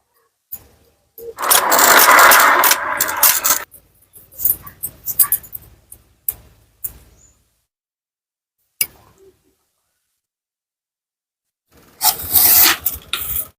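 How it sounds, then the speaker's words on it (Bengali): A machine shaping bamboo sticks for a fish trap gives a loud rasping, scraping run, then shorter intermittent grinding bursts separated by silences, with a final burst near the end. "এখন আমরা শলা তৈরি করব এই মেশিন দিয়ে"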